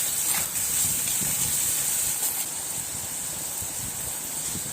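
Onions and tomatoes sizzle in a cooking pan while making a dried anchovy thokku, a steady bright hiss that holds for several seconds with light crackling underneath.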